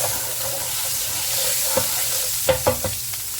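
Pani puri masala cooking in hot oil with asafoetida, ginger paste and turmeric, giving a low steady sizzle with a few sharp clinks of a spoon stirring the pan near the end.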